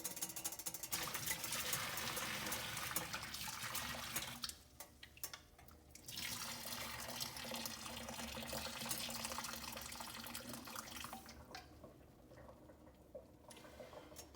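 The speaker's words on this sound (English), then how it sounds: "strain the water" Water pours and splashes as cooked linguine is strained in a kitchen sink, a broad rushing flow that pauses briefly twice and resumes, with faint clinks of the pot.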